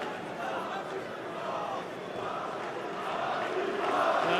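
A dense MMA arena crowd at a PFL Europe event roars steadily in support of fighter Patrick Habirora, a continuous wash of cheering and shouting that swells slightly louder toward the end, with no commentary over it.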